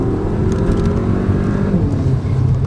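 An Audi A1 S-line engine revs hard under acceleration, a loud, continuous low grunt close by with no talk over it.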